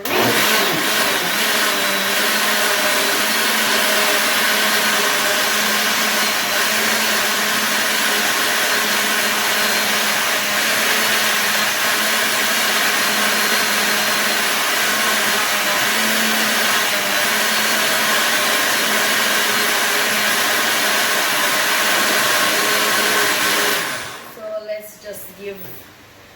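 A blender on its puree setting whirs loudly as one continuous, steady motor drone for about 24 seconds, then winds down and cuts off.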